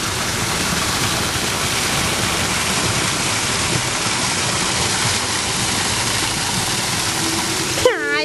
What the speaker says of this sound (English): Oh, what's this? Mom, it's a waterfall.